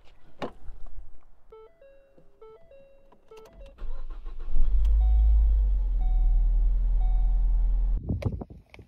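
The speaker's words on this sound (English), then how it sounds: "I'm going to start the car," A car engine starting: after some chimes and clicks, the starter cranks and the engine catches into a loud, steady idle that runs for a few seconds before thuds at the end.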